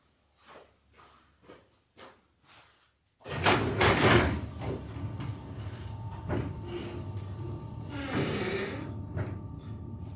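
A door being cranked open indoors, a loud burst of mechanical rattling and scraping that continues steadily for several seconds, preceded by a few soft knocks and shuffles.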